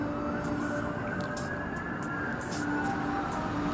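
Emergency sirens wail at a distance beneath a steady background roar that may be helicopter blades, a constant blend at moderate level.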